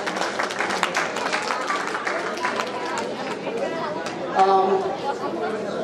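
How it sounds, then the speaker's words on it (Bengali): Audience applause and cheering for a singer and her backing musicians at a solo music evening, a dense steady wash of many hands clapping with crowd chatter throughout and a brief louder swell near the end. "আমরা সবাই তাদের জন্য করতালি দিয়ে অভিনন্দন জানাচ্ছি।"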